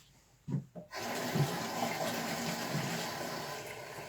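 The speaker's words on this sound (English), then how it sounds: "you clean the stone under the water, under the tap water, and you clean it with your hands" Tap water gushes on after a couple of brief splashes and runs steadily as a polishing stone is rinsed under the faucet, close and fairly loud.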